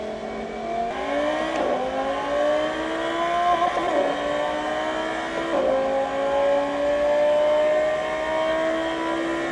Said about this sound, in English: Got to drive this beautiful Lamborghini Huracán Evo all-wheel drive on the track virtually